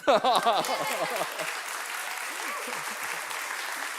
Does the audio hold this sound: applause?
yes